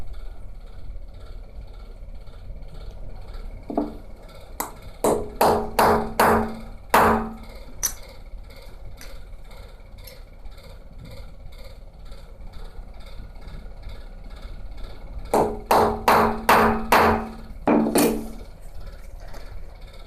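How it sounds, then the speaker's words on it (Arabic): A 2-inch nail is hammered into a piece of wood in two clusters of sharp, ringing metallic blows, each a quick run of strikes, heard up close against a quiet background. "نجيب قطعة الخشب ونقوم بعمل ثقب بمسمار 2 إنش في مركز الدائرة لعمل المحور"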